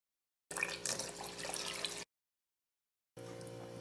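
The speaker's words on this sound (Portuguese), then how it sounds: "E nós vamos acrescentar 4 xícaras de água na receita" Water is poured from a measuring cup into a powdered-milk pudding mix in a bowl, a close, steady splashing stream heard in two separate pours with a silent gap between them.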